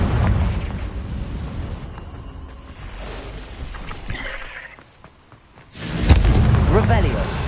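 Confringo blasting spell going off in Hogwarts Legacy: a loud, rumbling explosion opens, a quieter stretch with a dip near the middle follows, then a second sharp blast erupts near the end, backed by game ambience.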